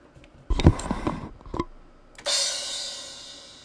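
A few quick percussive hits and a brief spoken-like burst, then a bright crash cymbal strikes and rings out, slowly decaying.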